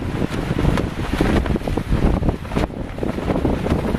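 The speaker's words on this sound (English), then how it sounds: "This is the wind we were having all day." Strong, steady wind blows across a lake on a fall wilderness trip, roaring and gusting against the microphone in continuous buffeting waves with no talk.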